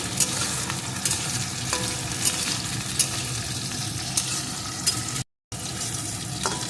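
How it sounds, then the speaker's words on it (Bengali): Green chillies and halved cashews fry in a hot pan with a steady, dense sizzle throughout, close and fairly loud, with occasional stirring clicks and one brief silent gap near the end. "সমস্ত কিছুকে একটু ভেজে নিয়েছি"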